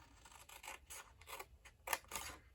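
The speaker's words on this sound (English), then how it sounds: "We're going to cut straight up the score line" Scissors snip through paper along a score line while a tealight candle box is being made, a quick series of quiet, close cuts and rustles.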